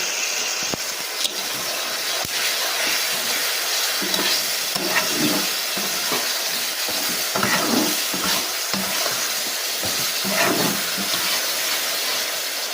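Potatoes and spices sauté in a pan with a continuous sizzle and hiss, broken by repeated scraping stirs close up.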